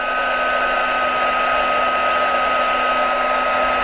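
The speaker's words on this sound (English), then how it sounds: "the thing you want to remember is to use your heat tool" A handheld craft heat tool blows steadily at close range, a constant whirring rush of hot air with a high motor whine and no pauses, used while making a card.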